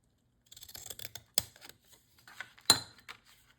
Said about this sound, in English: I could use my decorative scissors